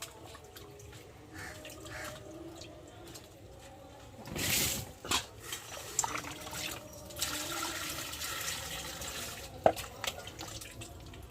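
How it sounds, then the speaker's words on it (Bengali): Water runs and splashes as a fish bought from the market is washed by hand at home, with uneven gushes, drips and clatter and a brief strong surge partway through. "চলো এখন মাছটা আমি ধুয়ে দেখো"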